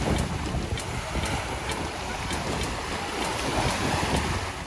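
Surf rolls onto a beach at Playa del Carmen in a continuous, broad wash of waves, heavy wind buffeting the microphone and blurring the steady roar.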